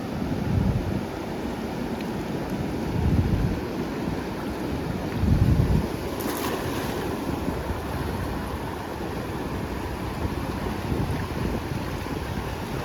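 Sea waves wash and slosh around a small fishing boat out on open water, a steady rushing roar with heavier surges, buffeted by wind noise against the microphone and no talking.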